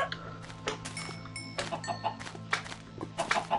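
Minecraft chickens cluck in a few short, fairly faint bursts over a steady low game hum, with no one talking.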